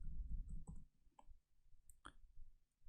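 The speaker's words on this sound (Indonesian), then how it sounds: "tekan tab di keyboard" Keys on a computer keyboard click sharply, including the tab key, as values are typed into an MS Word document: a few sparse, faint, close taps over quiet low rumble.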